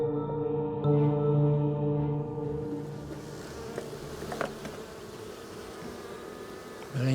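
Honey bees swarm and hum around a beehive in a steady, dense buzz with no break. Individual insects pass close now and then, and a faint hum sits underneath.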